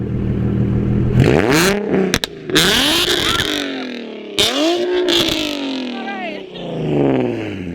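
A Nissan 350Z with a fully straight-piped exhaust on stock headers, test pipes, a Megan Racing Y-pipe and a Tomei muffler revs hard in several loud, close bursts with crackling between them, and voices are heard alongside.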